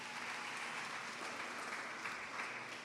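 Steady, dense applause from an audience honoring teachers at a primary school graduation ceremony, continuous and fairly loud throughout with no pause or talk.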